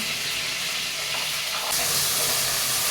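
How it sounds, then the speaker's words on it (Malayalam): Whole shallots drop into hot coconut oil with popped mustard seeds and curry leaves for a dried prawn theeyal, giving a steady close hiss that surges into a louder sizzle partway through. "അതിലേക്ക് നമുക്ക് കൊച്ചുണ്ടി ഇട്ടു തരാം"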